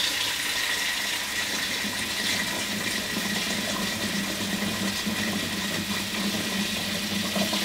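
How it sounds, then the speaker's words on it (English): Water poured from a tap into a pot of potatoes, a steady, fairly quiet rush of filling water that runs on without a break for several seconds. "Then we're gonna cover it with water."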